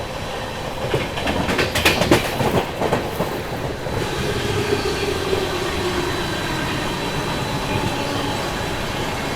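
The Delhi Yeshwantpur AC Duronto Express runs around a curve with a steady, loud rumble. Rail clatter comes through at first, then it settles into continuous wheel noise on the track.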